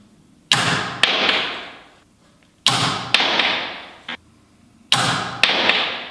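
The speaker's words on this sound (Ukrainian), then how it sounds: "Робимо три постріли під кутом 45 градусів." A spring ball launcher fires three shots at a 45-degree angle in a school physics experiment, each a sharp loud snap followed by a quick second thud and a fading rattle, evenly spaced and close.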